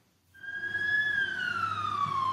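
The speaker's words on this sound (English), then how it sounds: "Or a fire truck siren." A single fire truck siren wail rises in after a brief quiet and holds a steady, slowly falling tone, loud and fairly close, with no voices.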